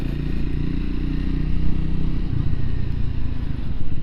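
A Triumph Scrambler 400x motorcycle rides along a road, its engine giving a steady rumbling drone mixed with wind and road noise, continuous and fairly loud throughout.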